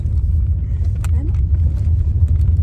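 A car drives along a road heading out of Ludhiana, its steady low engine and tyre rumble filling the cabin continuously and fairly loud, with a few faint knocks and clicks inside.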